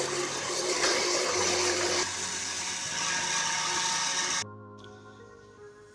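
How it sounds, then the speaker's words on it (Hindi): A blender grinds mango, sugar, milk and ice into a milkshake, a loud, steady whirring roar that shifts in pitch partway through and then drops in level near the end, with no talking. "अब इसे ग्राइंड कर लेंगे।"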